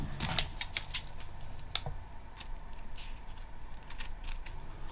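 Scissors snipping fabric while arranging vintage fabric clusters for a sewing journal, heard as a few close, crisp blade clicks early on, then softer handling rustles and light clatter.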